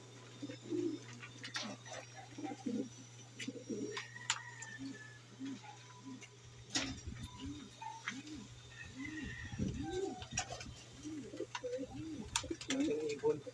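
Pigeons cooing in a loft, repeated soft rolling coos close by, with ticking and clicks, a steady low hum and occasional talk underneath.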